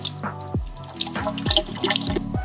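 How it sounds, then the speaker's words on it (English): Tap water runs and splashes into a sink while a face is wetted before a walnut scrub, giving close drips and uneven trickles broken by splashing hand movements, with no one talking. "So I'm gonna wet my face a little"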